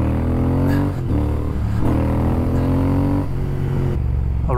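A Triumph Speed Twin motorcycle on a new ECU tune, not yet warmed up, pulls hard in third gear on an empty road at night, its engine drone rising loud and steady with brief gaps between gear changes.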